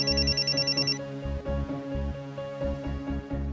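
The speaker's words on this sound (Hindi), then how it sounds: "ये किसका फोन है?" A telephone rings in a Hindi TV drama scene, with a repeated electronic ring that starts with a bright trill and then continues in a steady pulsing pattern, loud and close, with no talk over it.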